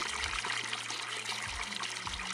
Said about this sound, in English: You'll be able to hear the water running there